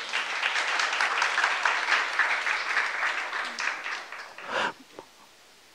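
A church youth congregation claps together for several seconds in a broad wash of applause that thins out and stops near the end, followed by a brief pause.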